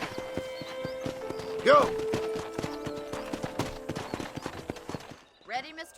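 Horse hooves clip-clop steadily in the Western video game Red Dead Redemption, with a loud whinny partway through, set on a ranch. Voices speak over the hoofbeats and game music, and the riding stops near the end.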